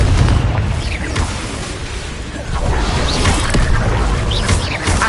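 Confringo explosion spell in Hogwarts Legacy on PS5: loud booming blasts with crashing, whooshing bursts over a dense, rumbling game soundscape.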